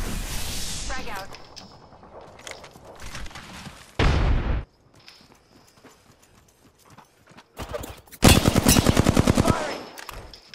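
Automatic weapons fire in Apex Legends cuts in during two loud, rapid bursts. Quieter game effects and hoof-like clatter run between them.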